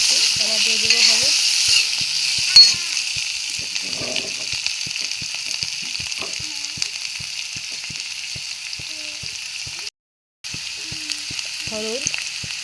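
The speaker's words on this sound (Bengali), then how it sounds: "এদিকে আমি কড়াইতে তেল দিয়ে পেঁয়াজ, রসুন আর আলু দিয়ে দিয়েছি। এখন ভালো করে কষিয়ে নেব।" Onion, garlic and potato with salt frying in oil in a wok: a continuous close sizzle with rhythmic scraping taps of a spatula stirring, and a brief drop to silence near the end.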